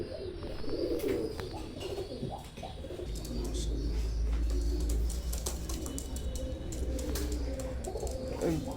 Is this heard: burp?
no